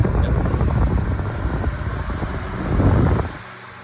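A 16-inch Signal oscillating pedestal fan runs close by with a loud, rough whooshing roar and a fluttering hum that swells slightly, then drops away abruptly near the end.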